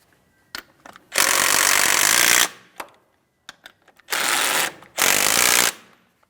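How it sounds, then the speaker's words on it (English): A power tool snugs up the brake caliper slider pin bolts on a 2007-2014 GMC Sierra 2500 HD. It fires in three loud, close bursts of about a second each, separated by quiet pauses and small clicks of handling. "Once they're started in, snug them up and torque them to 80 foot-pounds."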